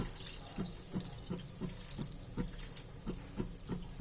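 About 1.5 litres of water is poured into a cooking pot for vegetable soup, a steady splashing stream with soft repeated gurgling pulses, close and moderately quiet, with no speech.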